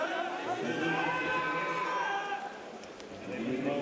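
Hungarian fans cheering and chanting in the stands at a men's water polo World Championship quarter-final against Greece, a steady wash of crowd voices filling the arena with a commentator talking over it.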